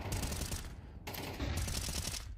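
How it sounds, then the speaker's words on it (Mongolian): Rapid bursts of automatic gunfire from a Counter-Strike match on the Inferno map fire in close, dense rattling volleys with a brief lull in between, and nobody talks. "Малпс смокнаас ямар амар буудаад байна."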